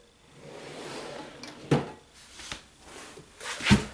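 A drawer in a make-up storage unit slides open with a few knocks and scrapes of wood and plastic, close by and moderately loud in a quiet room.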